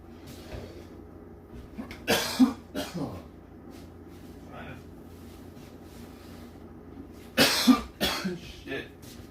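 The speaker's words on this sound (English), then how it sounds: "I don't think I'm supposed to be coughing so much after the vape" Two bursts of harsh, repeated coughing after vaping, each a cluster of several coughs, separated by a quiet stretch with faint background noise.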